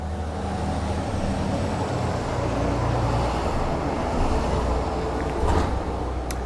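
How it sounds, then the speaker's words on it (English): Steady road traffic on a busy residential street, with delivery trucks rumbling past in a continuous low, dense wash of engine and tire noise and a brief louder swell near the end, no voices. "So sorry for the road noise"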